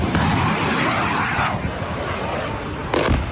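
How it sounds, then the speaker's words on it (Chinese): A drone slams into a residential house and explodes in news footage, giving a loud, close, broadband roar that rumbles on for several seconds, with a second sharp burst near the end. "無人機筆直朝民宅直接撞上去，轟的一聲，立刻炸出巨大火光"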